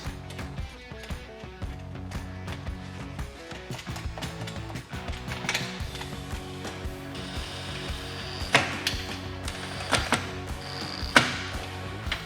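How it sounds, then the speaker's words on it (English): Ratchet clicks while nuts are tightened on an LED low-profile license plate frame on a Harley-Davidson motorcycle, bursts of close mechanical clicking in uneven runs with sharper metallic ticks near the end. "So now that we got the plate up there, we can go ahead and reinstall our nuts."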